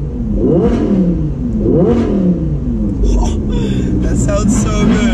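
Lotus Exige 430 fitted with a Capristo exhaust and accompanying convoy cars revving loudly and continuously, engine notes rising and falling in repeated surges with an interior drone throughout.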